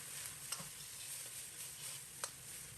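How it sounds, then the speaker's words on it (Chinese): Pork slices stir-fried over high heat in a wok with garlic, ginger, fermented black beans, chilies and soy sauce, giving a steady close sizzle with two sharp spatula clinks against the pan. "开大火快速翻炒"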